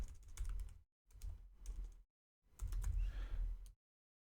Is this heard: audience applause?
no